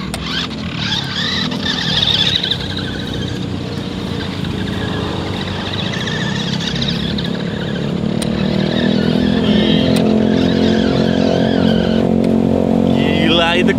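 A remote-control Hot Wheels car drifts across loose, soft ground with a steady whirring motor and gritty scrabbling, close and continuous, under people talking.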